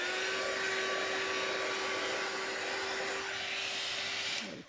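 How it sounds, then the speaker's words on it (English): A hair dryer with interchangeable heads blows steadily while drying a Maltese dog's coat at home. It gives a continuous loud whooshing hum with a faint motor whine, then cuts off sharply at the end. "they get really much used to this kind of a hair dryer, which is these different heads as well."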